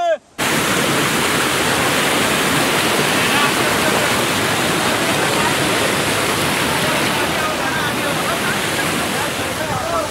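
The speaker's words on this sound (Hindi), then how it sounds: "ये पानी ऊपर से आ रहा है, बहुत बारीक मौसलाधार बारिश की तरह नीचे आ रहा है" A waterfall pours down like heavy, fine rain in a steady, loud, dense roar that stays close and unbroken throughout.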